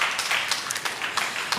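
A church congregation applauds during an afternoon service, a soft, steady wash of many hands clapping, fairly distant and without speech.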